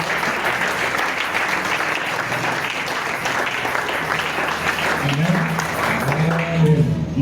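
A church congregation at a French-language worship service breaks into steady, loud applause that fills the room continuously throughout, with the sense of many hands clapping together and faint voices mixed in.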